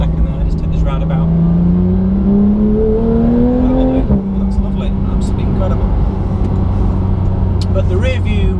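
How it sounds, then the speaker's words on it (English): Porsche 911 GT3 engine on a roundabout approach, a steady loud drone whose pitch climbs, then drops sharply as it shifts down into second gear and settles lower, continuing under the cabin noise. "Drop that into second there, just take this roundabout."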